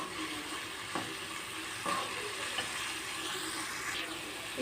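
Egg being stirred into a bitter gourd stir-fry in a hot pan, a low steady sizzle with a few soft scrapes of the spoon against the pan, quiet and without talk.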